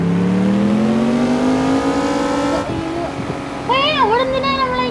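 Car engine in the video game Car Parking Multiplayer, a steady rising drone as the car drives at speed, accelerating throughout, with someone talking over it toward the end.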